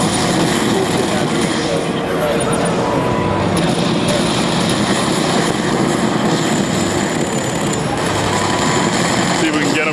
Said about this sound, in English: Oh, there's a chopper.